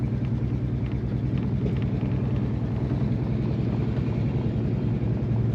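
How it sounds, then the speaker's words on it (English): A 1968 Mercury Montego MX convertible gives off a steady, deep exhaust rumble from the tailpipe while driving, with road and wind noise underneath and no talk. "There's that rumble coming out the tailpipe."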